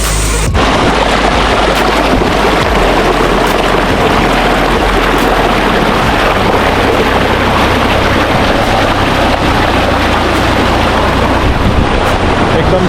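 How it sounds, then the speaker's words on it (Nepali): Cold wind blows hard at Mohini Waterfall in Kulekhani, a steady, close, broadband roar buffeting the microphone for the whole stretch, with no clear voices. "एकदम चिसो हावा चलिरहेको छ"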